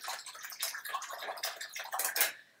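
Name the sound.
rinsing a paintbrush in water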